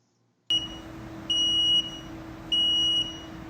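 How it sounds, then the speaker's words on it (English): An aquarium alarm module from Harry's Aquatics, set to 90, gives three loud, piercing high-pitched beeps about a second apart over a steady low hum. "that's going to give you the beeping noise, which is quite loud"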